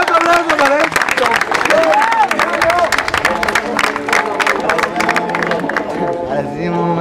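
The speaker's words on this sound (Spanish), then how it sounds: "¡Aplausos, aplausos, aplausos, maestro!" A crowd at a freestyle rap battle claps and cheers loudly throughout, with energetic voices shouting over the dense, continuous applause.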